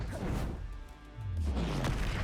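A Confringo spell blast in Hogwarts Legacy lands as a heavy crash with a low booming tail, a short lull in between and a second swell of impact rumble after it.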